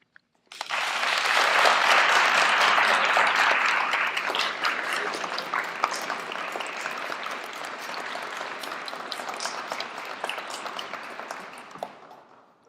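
Sustained audience applause welcoming a poet at a University of Vermont poetry reading, starting sharply, loud and dense at first and then thinning slightly while continuing steadily to the end.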